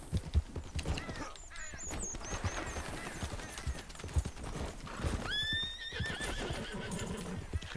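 Horse hooves clop steadily at a brisk pace while horses neigh and whinny loudly over the top, with a busy background from the game Red Dead Redemption Online.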